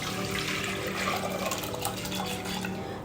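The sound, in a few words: soaked dal and water poured into pressure cooker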